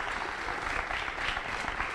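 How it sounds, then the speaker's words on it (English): A college audience at a youth voting event applauds with dense, continuous clapping that holds steady throughout, heard at a moderate distance. "How about a cheer again here for the College Democrats,"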